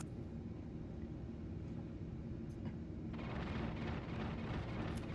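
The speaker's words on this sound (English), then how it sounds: "I can hear those cannons all the way over here." Deep, continuous rumbling booms of cannon fire in the space game Star Citizen roll on without pause, a dense low roar with a brief sharper burst partway through.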